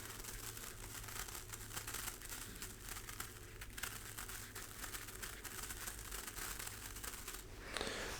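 Medical tape is torn and crinkled close up in a quiet room, a continuous soft crackling rasp with dense little tearing pulses that run steadily for several seconds and end in a brighter rip.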